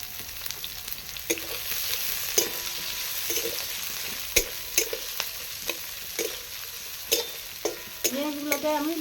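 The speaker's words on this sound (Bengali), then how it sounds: "পেঁয়াজ কুচিটা দিয়ে দিলাম কড়াইয়ে পেঁয়াজ কুচিটা ভেজে নেবো এখন" Chopped onions sizzle and fry in a kadai, with steady crackling broken by repeated sharp clicks and scrapes of stirring; close and moderately loud, no talk.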